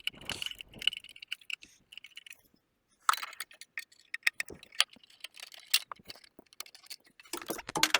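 A small screw dropping and clinking onto a metal ramp during work on a winterization plate, giving sharp, scattered metallic ticks and rattles of varying loudness with a short silent gap midway.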